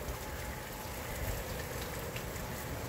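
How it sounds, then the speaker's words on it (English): Steady rain falls outdoors on a wet November day, a soft, even hiss of drops on surfaces with no talking. "But today we got rain,"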